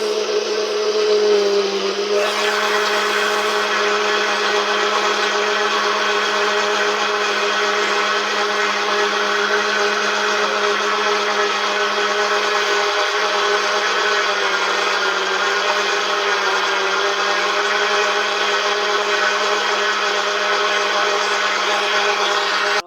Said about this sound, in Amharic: አሁንም እንደ አዲስ ድጋሚ ውሃ ጨምሬበት እፈጨዋለሁ